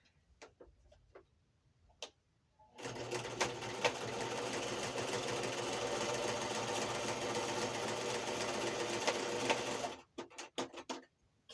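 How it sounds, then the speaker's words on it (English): A sewing machine stitches across a paper pocket tag, running in one steady, fast ticking burst of about seven seconds, framed by quiet handling clicks before and after. "So give me 1 second, sewing one more time."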